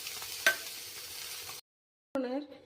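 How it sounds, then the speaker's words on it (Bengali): Paneer frying in hot oil in a wok gives a soft, steady sizzle with a brief stirring clatter, cutting out to silence, then resuming with a light spatula scrape. "তেলে আমি পনিরটাও একটু হালকা ভেজে নিচ্ছি।"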